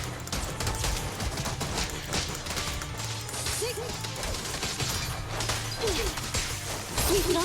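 Rapid gunfire bursts and crashing impacts from the video game Zenless Zone Zero crackle continuously under game music, dense and busy throughout, with brief chirpy effects.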